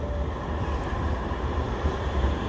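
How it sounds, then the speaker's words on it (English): A Manchester tram rolls past nearby on a street, producing a steady low rumbling roar with a faint rail whine, heard on its own without talk. "Whoa, tram!"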